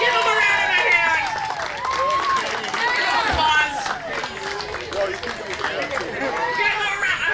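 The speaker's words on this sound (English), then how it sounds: "Give him a round of applause" A crowd at a WrestleRave wrestling event, Food Fight, claps and chatters steadily for a fan, a busy mid-level din of mixed voices and hand claps.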